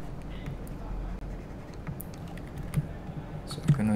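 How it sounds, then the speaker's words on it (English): Computer keyboard typing mixed with the scratch of a pen on a drawing tablet, a scattered run of light clicks and taps over a quiet background, with faint voice-like sound in places. "me scratching the tablet, and the keyboard sound"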